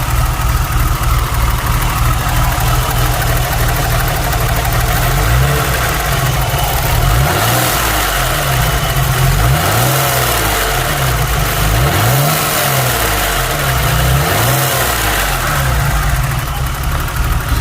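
A BMW E30 convertible project car's engine running, heard close and loud, with steady idle that rises through several revving swells before settling back, no voices.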